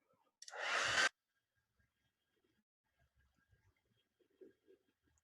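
Hair dryer blowing on wet watercolor paint, a short loud burst of about half a second that cuts off, followed by near silence with faint scattered taps.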